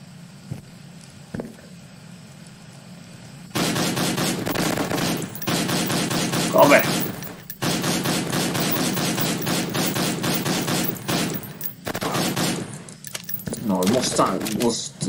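Gunfire in the video game Rescue Six, rapid bursts of shots in dense rattling runs separated by short gaps, loud and close, with someone talking at points.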